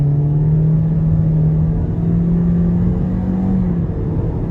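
A 2019 Toyota Corolla LE with about 91,000 miles pulls hard from inside the cabin, its engine droning loud and steady with a slowly rising pitch, no talk over it.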